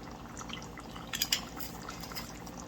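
Balsamic vinegar poured into a skillet for a no-dough pizza, a faint short liquid trickle and dripping with a brief brighter splash in the middle over a steady background hum.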